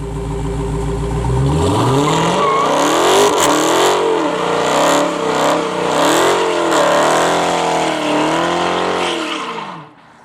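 A Dodge Charger Hellcat's supercharged V8 fires up and revs hard, then accelerates with rising and falling roars and gear changes, loud and close throughout before cutting off abruptly near the end.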